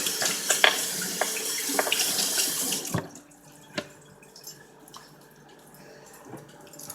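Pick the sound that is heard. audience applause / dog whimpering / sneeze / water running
water running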